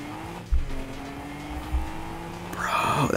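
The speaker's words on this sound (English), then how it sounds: "I can get actual car noises." Car engine and tire noises in the video game Rocket League, a droning motor with a couple of thumps, then a rising squeal and rev near the end, close and without talk.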